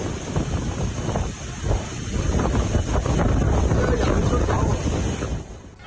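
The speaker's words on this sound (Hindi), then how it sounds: "एयरपोर्ट पर तेज हवा के साथ भारी बारिश की तस्वीरें सामने आई।" Strong typhoon wind with heavy rain at Hong Kong airport roars in gusts across the microphone, a loud, blustery rush that swells and buffets continuously.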